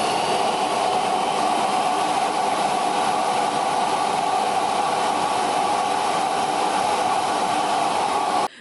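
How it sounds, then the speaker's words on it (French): A robot vacuum's self-emptying station runs with a loud, steady, rushing roar of suction that cuts off abruptly at the very end. "Le système d'autovidange vous permet de rester tranquille jusqu'à 60 jours sans vous soucier de l'aspirateur, de vider, etc."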